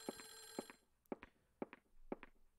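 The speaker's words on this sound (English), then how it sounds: "I don't know where that phone's coming from." A telephone rings in the video game Clock Tower: The First Fear, with a quick double trill first and then repeated short bursts spaced about half a second apart. It sounds faint and thin, with no talking over it.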